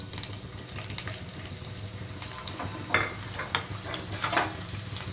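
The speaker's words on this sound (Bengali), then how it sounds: "এবার এর মধ্যে আমি দিয়ে দেবো পেঁয়াজগুলো।" Sliced onions hitting hot oil in a pan for a Spanish potato omelette, giving a steady crackling sizzle with sharper pops and spits breaking through at intervals, close and fairly quiet.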